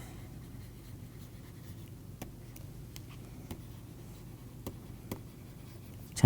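Chalk or marker strokes on a board while a waveguide diagram is drawn, faint scattered taps and short scratches over a quiet room hum, with no talking.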